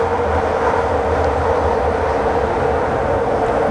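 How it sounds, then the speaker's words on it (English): Steady loud rumble of trains running on rail, one passing right after another, with a continuous low roar and grinding wheel noise throughout and no talking. "Back-to-back trains."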